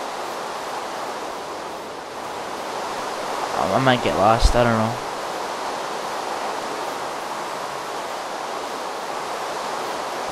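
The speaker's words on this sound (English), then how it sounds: "It's like a stream or something. And there's trees. And then it like leads out to the ocean." Water from a stream flows out toward the ocean in a Minecraft world, a steady soft hiss of rushing water running throughout, with a person briefly talking over it midway.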